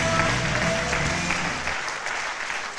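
Audience applause at a live show, a dense sustained clapping that stays loud and steady for the length of the clip, with a few brief voices mixed in.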